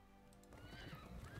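Horse neighs from the fantasy strategy game Fallen Enchantress, a brief whinny with hoof-like clatter rising after a short quiet lead-in, close and moderately loud with no talk.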